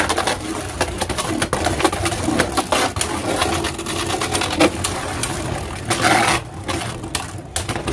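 Beyblade Burst Turbo tops spin and collide in a battle stadium, a constant whirring grind broken by sharp clacks and scraping hits, loud and close throughout.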